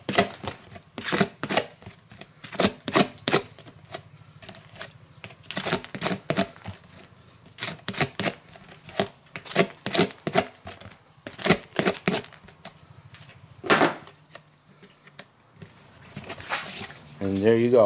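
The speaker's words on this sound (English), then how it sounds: "Just take your scissors like this and just go." Scissors snip repeatedly along the rough edge of a plastic 5-gallon bucket, crisp irregular cuts in quick bursts with pauses, close to the microphone and alone.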